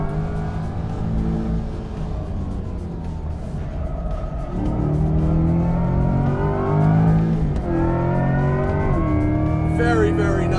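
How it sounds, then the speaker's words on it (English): The V8 engine of a Chevrolet Corvette Stingray revs and accelerates loudly up close, its pitch climbing, dipping and rising again over the whole stretch. "As expected, the Stingray's V8 sounds excellent."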